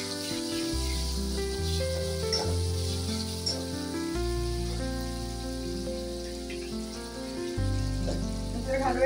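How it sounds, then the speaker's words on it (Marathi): Ginger garlic paste fries in oil in a kadhai over onions already browned, giving a soft, continuous sizzle beneath louder sustained music that changes notes throughout. "कढईमध्ये तेल घालून मी कांदा लाल तळून घेतलेला आहे। आता मी घालते आलं लसूण पेस्ट,"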